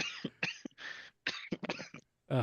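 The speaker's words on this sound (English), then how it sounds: "Don't die from coughing though, please." A run of rough, throaty coughs in quick bursts with brief pauses between, close and fairly loud, ending in a harsher hack.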